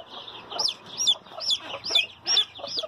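Mother hens clucking on a farm, a steady run of close, repeated clucks and short calls roughly every half second, loud and clear with no talk.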